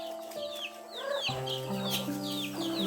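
A flock of native chickens on a rural Philippine farm clucks and chatters continuously at close range, with short repeated calls overlapping and rising in pitch, and no talking over them.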